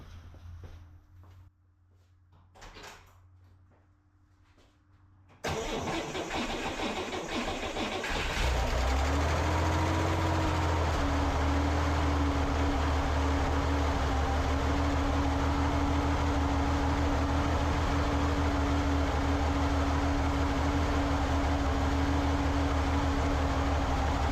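A cold 1963 Chevrolet Corvair engine cranks, catches after about five seconds and settles into a loud, steady idle that runs on for nearly twenty seconds without talk.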